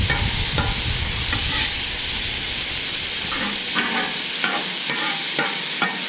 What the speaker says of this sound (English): a boring video of a steak sizzling